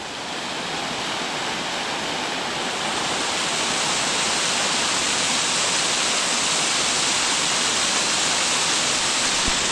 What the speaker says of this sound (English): So the waterfall is coming like that way, and it's cold water, man.